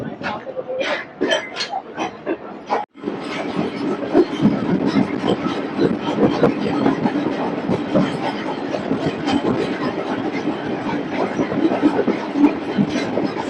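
The Pak Business Express train rolls along the track out of Hyderabad with a steady rumble and rhythmic clatter of wheels heard from on board, loud and continuous, after a few sharp clinks at the start; someone speaks.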